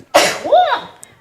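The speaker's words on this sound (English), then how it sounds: "I sneezed, but to everyone's benefit, I covered my microphone." A single person sneezes into a covered microphone at a high school field hockey senior night game, a sudden muffled burst followed by a brief tonal tail, close and loud.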